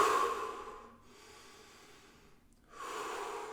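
A person rests after a Ruffier fitness test, breathing calmly: one soft, slow exhale fades into a quiet pause, then another breath swells back in, close and unhurried.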